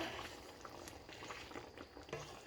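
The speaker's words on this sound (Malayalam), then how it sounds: "കണ്ടോ, നല്ല തിളച്ച് നല്ല പാകത്തിന് ആയിട്ടിരിപ്പുണ്ട്." A pot of Kerala kadala curry made with black chickpeas simmers at a boil, giving a faint, steady bubbling with soft pops and no voices.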